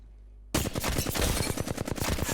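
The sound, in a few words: assault rifle gunfire in a video game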